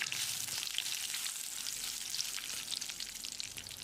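Steady, crackling sizzle of leaves and chillies frying in hot oil, close and fairly quiet, with no talking.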